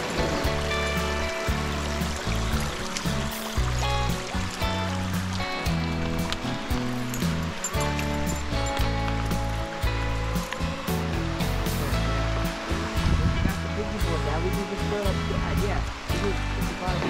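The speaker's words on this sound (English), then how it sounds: "It's like waterfall steps." River water cascades over stepped rock ledges in Cuyahoga Valley, a steady rushing wash close by that holds without pause throughout.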